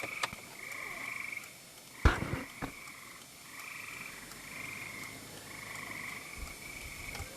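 Several frogs at a roadside croak in repeated nasal bursts at a moderate distance, broken by a couple of sharp knocks, with no one speaking.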